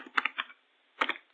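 Keys clack on a computer keyboard while Java code is typed, in two short clustered bursts of close, crisp taps separated by a brief pause.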